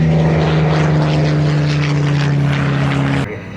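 A P-51 Mustang passes at an air show with a loud, steady propeller engine drone, holding strong for several seconds before cutting off abruptly.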